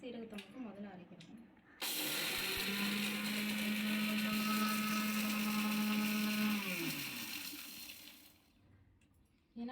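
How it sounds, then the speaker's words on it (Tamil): A kitchen mixer grinder whirs loudly, grinding black pepper and cumin for about five seconds, then winds down with a falling pitch; a voice talks briefly before it starts. "நம்ம மிளகு சீரகத்தை மட்டும் முதல்ல அரைக்கணும்."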